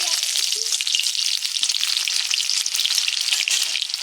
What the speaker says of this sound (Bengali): দিয়ে দিব আমি পেঁয়াজ কুচি